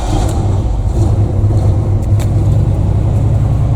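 A cold-started 1978 GMC one-ton squarebody dump truck V8 runs steadily at a low, rough idle, with a loud, close, continuous rumble and no talking.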